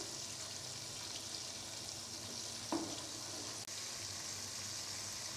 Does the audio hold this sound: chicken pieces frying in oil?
yes